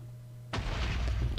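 A TNT explosion in a video game erupts suddenly after a quiet steady hum, a single loud booming blast that keeps rumbling for the rest of the moment.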